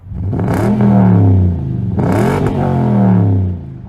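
A close, loud 2018 Audi Q5 2.0-litre turbocharged engine, 252 horsepower, running on LPG, revs twice, rising and falling in pitch with a smooth turbo whine and a throaty roar, then settles back.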